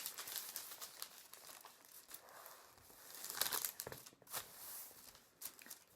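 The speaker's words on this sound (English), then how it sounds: "With your piece of paper or your piece of plastic in landscape, fold it in half." A sheet of paper or plastic folded in half, with continuous close crinkling and crisp rustling that swells to louder crackles midway before settling, no voices.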